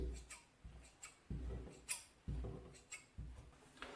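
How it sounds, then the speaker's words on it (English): Shears snip through coat cloth between mark stitches in a quiet room, a steady series of soft crunching cuts roughly every half second, close and faint. "I cut between the mark stitches."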